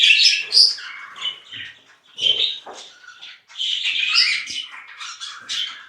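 Parrot chicks chirp and squawk in rapid, shrill bursts, several overlapping high calls close by with brief pauses between them.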